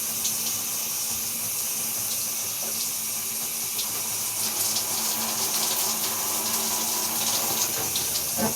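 Shower water running steadily at home, a continuous close hiss and splash with no pauses.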